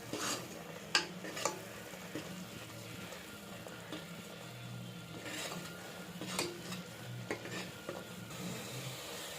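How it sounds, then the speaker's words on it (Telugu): Masala fried in a pan for mutton curry, stirred steadily with a utensil: soft sizzling runs under scattered scrapes and light clinks against the pan, quiet and close, with no talking. "మసాలా పచ్చి వాసన పోయే వరకు బాగా వేయించుకోవాలి."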